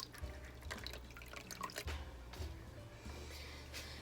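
Caustic lye solution for oatmeal, milk and honey soap is poured slowly onto a spatula, giving faint, sparse drips and trickles against quiet background hiss.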